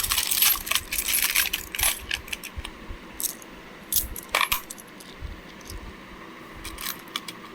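Mysore University uncirculated five rupee coins clink and jingle as they are handled, giving sharp metallic taps in uneven clusters with quieter gaps between them.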